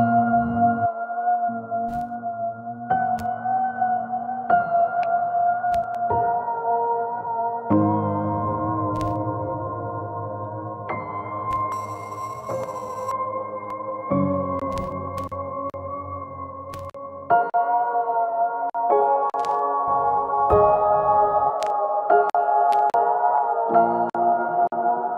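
Piano run through the iZotope Vinyl lo-fi vinyl effect plugin, playing sustained chords that change every few seconds in a steady, mellow progression, heard alone and fairly loud.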